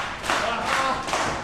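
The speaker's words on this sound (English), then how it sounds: "Crowd rallying up behind Marche Rocket." A wrestling crowd at a live FABMANIA show claps in rhythm, three loud swells of clapping and cheering from the audience in quick succession.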